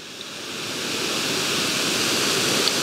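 A Rain Bird 5000 rotor sprinkler spraying water outdoors, a steady broadband hiss that builds slightly and holds close and loud throughout with no talking.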